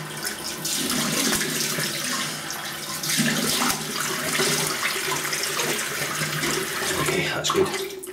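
Cold tap water runs in a steady, unbroken rush as shaving lather is rinsed off, loud and close with no voices.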